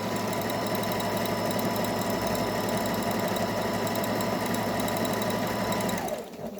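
A Singer 5780 sewing machine stitches on stiff buckram with a steady, fast mechanical whir and needle clatter, loud and continuous. It runs alone and winds down and stops near the end.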